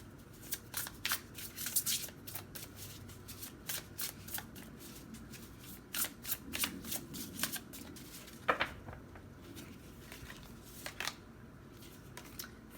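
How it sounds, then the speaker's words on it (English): Cards are pulled and shuffled from a tarot-style card deck at close range, quick crisp riffling slaps and swishes in irregular bursts, fairly quiet with no talking. "Let's get one card from this deck for pile 3."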